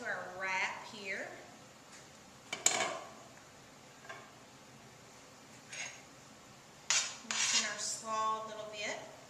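Cooked beef mixture spooned onto a whole wheat tortilla wrap, with close clinks and scrapes of a utensil against a pan and plate, broken by short pauses while a person talks.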